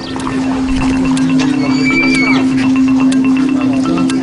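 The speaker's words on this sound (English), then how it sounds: "Almost all horses in the Swiss Armed Forces are of the Freiberger breed." A Freiberger horse whinnies over a steady low hum and outdoor bustle, with faint voices in the background.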